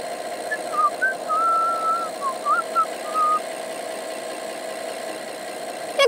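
A Rolls-Royce Cullinan idles with a steady, smooth hum, low and even, with a faint whistling tone drifting over it and a brief mechanical shift right at the end.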